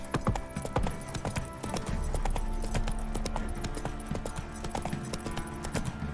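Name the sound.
Geralt's horse Roach galloping, Witcher 3 video game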